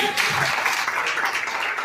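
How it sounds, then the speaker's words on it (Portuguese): Church congregation applauding Jesus during a sermon, a dense crowd clapping that rises quickly and holds steady, loud and close, with a brief voice near the start. "Você pode aplaudir a Jesus, amém?"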